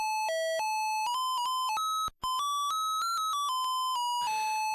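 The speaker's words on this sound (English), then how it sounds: "The game start music is Bizet's Farandole, courtesy of the PC-88's Beep channel" A bright, square-toned PC-88 beeper plays a quick melody of short staccato notes from Bizet's Farandole as game start music, with a brief gap midway and a burst of noise near the end.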